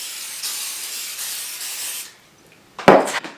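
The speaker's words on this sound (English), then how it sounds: "spray a cookie sheet with cooking spray so the bread doesn't stick to the pan" A steady, airy hiss of cooking spray onto a cookie sheet lasting about two seconds, then a pause and a short burst of clattering handling noise.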